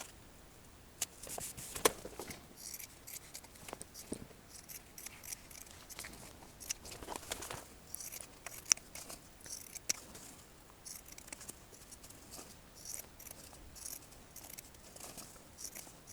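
Scissors cutting fabric for a Chewbacca Life Day robe, a series of quiet, irregular snips and rustles close by in an otherwise hushed room.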